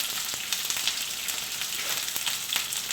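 Onions and green peppers frying in a pan for beef and black bean sauce, a dense, even sizzle with faint crackles and a few light spatula taps, heard alone without voices.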